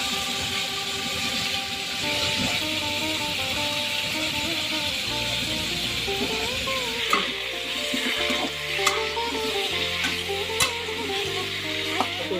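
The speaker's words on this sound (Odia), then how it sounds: "ତେଲ ତାତିଲେ ଆମର ଫୁଟଣ ଟିକେ ପଡ଼ିବ" Tempering spices crackle and sizzle in hot oil, a dense, continuous frying hiss close up with occasional stirring clicks, set against soft background music.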